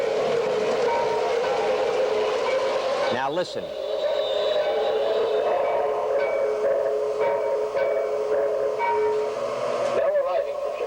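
Union Pacific 49er train arriving at the station, a steady loud rumble with whistle-like tones and brief squeals, while a voice speaks briefly over it.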